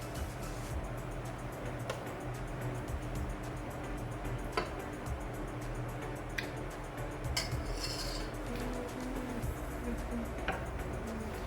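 Cooked round pumpkin curry being served into a dish, with spoon clinks and scrapes against cookware, scattered ticking contacts and a brief rattle over a steady background hum.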